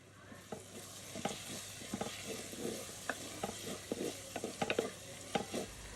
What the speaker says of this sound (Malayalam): അതും കൂടെ ചേർത്തിട്ട് നന്നായിട്ടൊന്ന് മിക്സ് ചെയ്തെടുക്കുക.